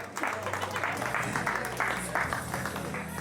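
Audience applause at the 2021 Rahva Rammusari strongman competition in Jõgeva, a steady, dense burst of clapping with an announcer talking over it.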